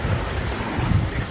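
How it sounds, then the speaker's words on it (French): Strong wind buffeting a microphone aboard a sailboat running at six to seven knots, a loud continuous roar with gusty low-frequency rumbles. "On a du vent."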